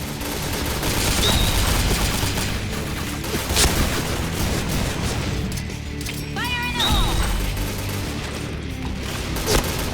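Dense bursts of rapid gunfire fill a Point Blank online shooter match, sustained and loud with crashing impacts throughout, while a voice speaks briefly underneath.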